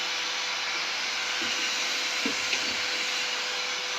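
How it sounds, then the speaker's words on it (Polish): A vacuum cleaner drones steadily at a distance in a rural house on a freezing winter day, a constant broadband whir with a few faint knocks under it. "Tam odkurzacz mi chodzi."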